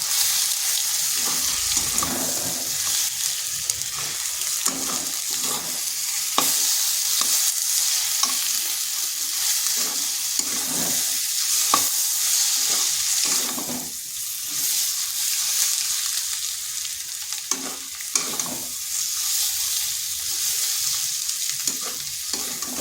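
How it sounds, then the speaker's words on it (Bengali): Scrambled egg fried with spices is stirred in a pan, a continuous sizzle punctuated by frequent sharp scraping and clacking of a spatula against the metal, close and without speech. "ডিমের ভুজাটা হয়ে গেছে মশলার সাথে ভালো করে মিশিয়ে নিচ্ছি"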